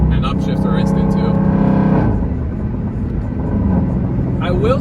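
Stock Dodge Scat Pack 392 V8 engine revving loud and close through a quick downshift in sport mode, with a sharp change in engine note around the midpoint before settling back to a steady roar.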